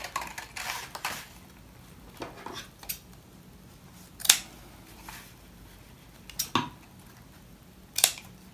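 Scissors cut bias binding fabric into strips for a zipper, giving a few scattered, crisp snips close by against a quiet room, with long pauses between cuts.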